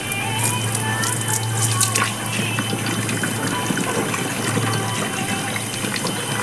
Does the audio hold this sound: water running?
yes